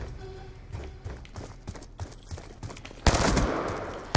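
Rapid bursts of gunfire from a weapon in Black Ops 2 rattle as quick clusters of sharp cracks, close and loud, then give way to a dense, harsh wash of noise near the end.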